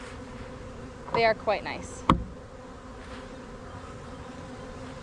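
Honey bees buzzing around Apame hives in a garden apiary, a steady insect drone throughout, with a short burst of speech and a sharp knock partway through.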